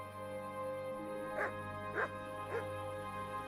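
A dog barks and whimpers three times at steady intervals in the video game Kingdom Come: Deliverance, moderately close, heard over a constant humming game ambience.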